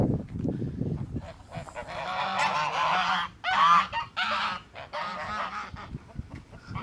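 Chickens of an unusual breed in a village in Georgia, with loud, raspy, honking squawks in repeated bursts close by. Lower murmurs and rustling run underneath.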